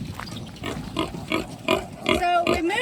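Piglets and a sow in a farm shelter, a rapid series of short squeals and grunts in bursts, close by, with some brief voices mixed in.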